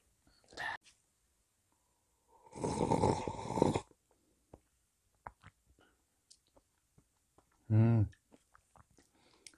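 Close-up eating at a breakfast of toast and Fontana cup soup, with a few crunchy bites and chewing bursts, light clicks and slurps between long quiet gaps.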